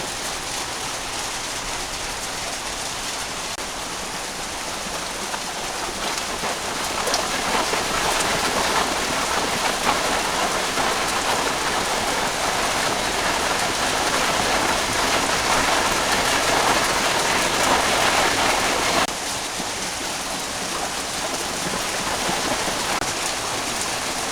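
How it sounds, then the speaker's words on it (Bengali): Heavy rain pours steadily in a dense, unbroken hiss, swelling louder in the middle before easing slightly near the end. "প্রচুর বৃষ্টি হইতে আছে আর ম্যাগেও ডাকতে আছে"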